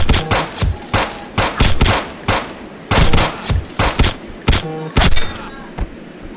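Video game gunfire rattles out in rapid, loud bursts of shots, close and punchy, with brief gaps between volleys.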